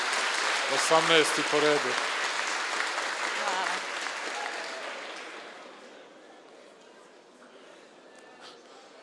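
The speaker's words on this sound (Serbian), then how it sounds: "Ajde, jedan aplauz za Martinu" An audience claps for a birthday at a public gathering, loud applause that swells over a spoken voice and then thins and fades away over the last few seconds.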